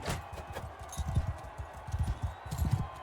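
Horses' hooves clip-clop in a steady, uneven rhythm across a tournament ground in the video game Mount & Blade 2 Bannerlord, several animals trotting at mid distance over a continuous low background.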